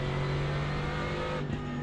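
Steady race car engine drone from iRacing, cars accelerating through the Andretti hairpin as a red BMW battles for position, a continuous loud hum with a brief dip near the end, no talk.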